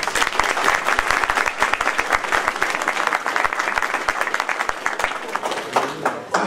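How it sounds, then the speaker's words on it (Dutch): An audience at a museum opening applauds its volunteers, a dense, sustained round of clapping that fills the room evenly and fades slightly at the end. "Daarom vraag ik aan u een applaus voor alle vrijwilligers van het MUBO."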